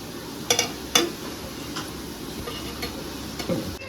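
Chicken cooking in an onion, tomato and ginger-garlic paste masala gives a soft sizzle under a few clicking stirs and taps of a spoon against the pan, close and quiet, with no talking.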